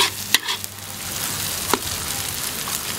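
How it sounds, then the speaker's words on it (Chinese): Fermented black beans and chili peppers are stir-fried in a wok, giving a steady close sizzle with a couple of brief scraping stirs and no voices. "放在一起炒均匀。"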